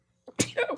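A single sharp sneeze, close and abrupt, following a short intake of breath.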